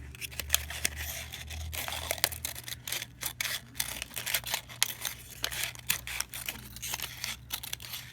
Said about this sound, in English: And I'm going to cut out this circle.